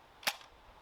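A single sharp pop from a thirty-year-old Nerf Mega blaster firing an old foam dart, brief and fairly faint, with quiet room tone around it.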